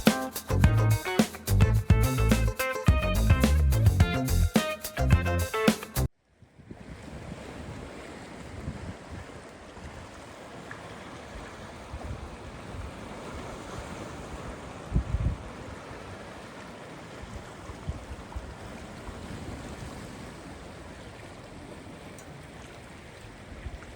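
Sea waves wash against a rocky beach at Għar Lapsi, Malta, heard as a continuous rushing surf mixed with wind buffeting the microphone, following a few seconds of music at the start.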